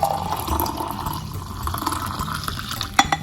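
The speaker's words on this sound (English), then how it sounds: "you are going to pour that ginger goodness in here" Ginger tea is poured into a moringa, honey and lemon base, giving a steady liquid trickle with soft splashing over about three seconds and a small clink near the end, close by and moderately quiet.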